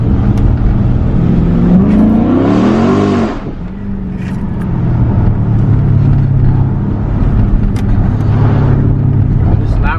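A 2013 Dodge Charger SRT8 engine revs up and drops back, with a rising harmonic sweep, then steady exhaust rumble continues behind a voice.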